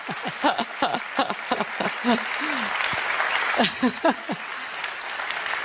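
Applause at a political gathering begins with sparse clapping and builds, while someone talks over it.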